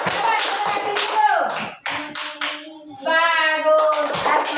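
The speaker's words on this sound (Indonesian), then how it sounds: "Bagus, tepuk tangan" Children in a classroom clap hands together in short rhythmic bursts, mixed with a teacher and kids speaking and chanting, loud and close, with brief pauses between the clapping passages.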